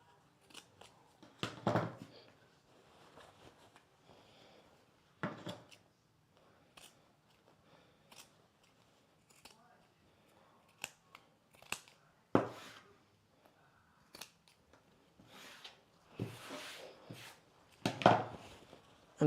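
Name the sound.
scissors trimming fabric for a slip dress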